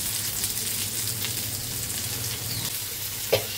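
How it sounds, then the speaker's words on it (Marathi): Potato pieces sizzle in hot oil with green chilies already sautéed, a close, steady frying crackle with a brief clatter near the end. "तर हे बघा मिरच्या तेलात परतून घेतल्यात. आता त्याच्यात आपण हा बटाट टाकूया."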